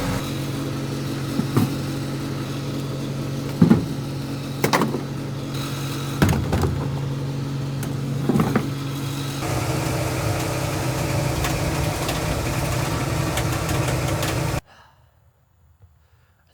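A John Deere 42 combine's engine idles while warming up, a steady close rumble with a few louder knocks early on, then a denser hum before cutting off abruptly near the end.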